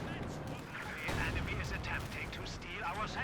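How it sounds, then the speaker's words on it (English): Friendly gunfire in a strategy game battle, with a unit shooting its own Pioneers. Steady crackling shots and rumbling fire continue throughout, partly under a commentator's voice. "we got friendly fire action by VonIvan shooting his own Pioneers"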